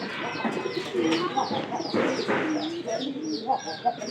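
Nearby pigeons coo softly and repeatedly, their low throaty calls overlapping in an uneven rhythm.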